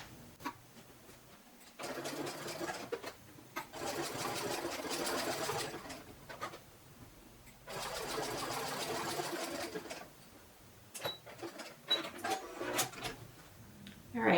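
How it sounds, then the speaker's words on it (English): A sewing machine with a walking foot stitches faux fur in a long, wide zigzag, running in two steady bursts of a few seconds each, separated by pauses filled with small handling clicks and rustles, close and moderately loud. "I am using a long and wide zigzag stitch, and I'm going to try to stay fairly close to the raw edge."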